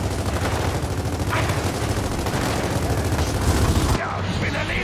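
Gunfire in the Gears of War 4 game during a sniper encounter, with dense, continuous rattling shots and bursts throughout, then a sudden drop in intensity near the end; a voice is heard over the shooting.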